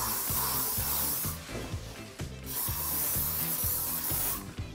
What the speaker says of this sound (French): je vais passer un voile de laque pour amplifier ma fixation